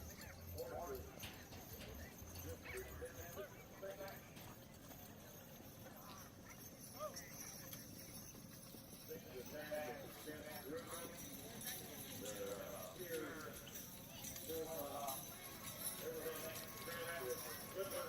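Draft horses clip-clop steadily at a large draft horse driving show in Britt, Iowa, a faint rhythmic patter of many hooves under crowd noise and a speaking voice.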